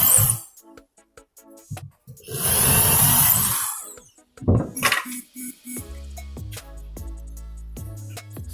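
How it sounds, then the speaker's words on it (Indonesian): A power drill whirs in a short burst into wood while building a kitchen cabinet set, followed by a brief second spin and scattered clinks and knocks of handling. "kita tinggal bor seperti ini"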